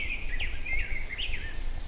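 A robin sings outdoors in the woods, a run of bright, warbling phrases that carries on steadily over a low background rumble, with no voices.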